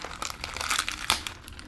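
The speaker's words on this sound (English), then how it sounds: "Just open the bag." A plastic bag of aquarium filter media is torn open by hand, giving close, crinkly rustling and a sharp tearing burst near the end.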